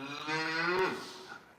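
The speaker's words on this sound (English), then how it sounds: "Maybe that is Coco come back as a little calf" A young calf at a countryside farm centre gives one drawn-out moo, rising and then falling, close and fairly loud, with no talking over it.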